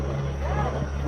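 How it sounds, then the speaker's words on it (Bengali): A motorbike engine drones steadily as it climbs a steep mountain road near Keokradong in Bangladesh, a constant low hum heard from a distance under wind noise. "একটা বাইক উঠতেছে"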